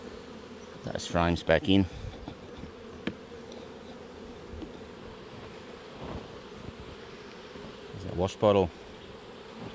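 Honey bees buzz as they lift off shaken hive frames during a Varroa alcohol-wash check, a steady insect drone under brief close talk, with louder bursts of activity near the start and end.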